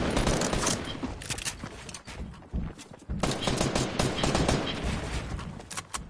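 Rapid automatic gunfire from the drum gun in a Fortnite match, a dense, loud rattling burst that runs nearly continuously, breaks off briefly around the middle, then resumes.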